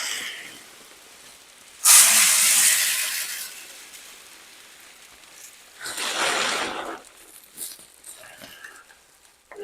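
Chicken feed is poured into a pail in two separate rushes of granular hissing, the first loud and the second softer, with quiet gaps between them.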